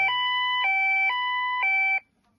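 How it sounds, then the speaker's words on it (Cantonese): A water leak alarm linked to a CP1401 unit beeps in a steady two-tone pattern, alternating high and low pitches about every half second, loud and clear with no other sound, then stops abruptly. "咁同一時間就係呢個嘅防漏水警報器，如果漏水嘅話啦"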